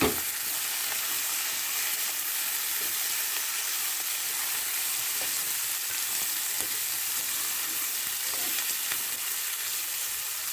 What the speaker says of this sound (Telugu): గోకరకాయలు వేస్తున్నాను.